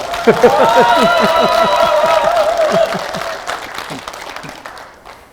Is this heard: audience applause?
yes